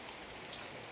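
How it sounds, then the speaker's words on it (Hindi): Steady rain falls along Mall Road beside a nature park with tall trees in the snowy Manali mountains, a soft, even patter with two slightly louder drops, fairly quiet and without voices. "बारिश हो रही है"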